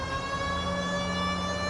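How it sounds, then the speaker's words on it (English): A police siren wails in L.A. Noire, a steady, loud tonal cry held throughout over a low vehicle hum, with no talking. "Hear the siren, but don't get out of the way, guys."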